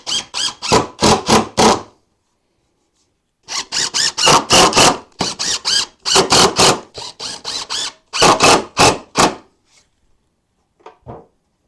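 A power driver sends screws into a 2x4 bench frame in short, loud, buzzing bursts, several quick pulses per screw with brief pauses between, close and clear with no one speaking.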